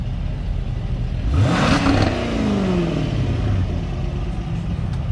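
White 1970 Jaguar E-Type 4.2 at a summer club festival, its engine blipped into a quick rising rev that peaks and falls back, followed by a second shorter rev before settling to a steady idle.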